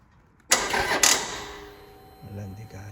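A Harley-Davidson Sportster motorcycle, stored for four months with a discharged battery, cranks loudly on its starter for a couple of seconds without catching, then the noise fades as a voice speaks.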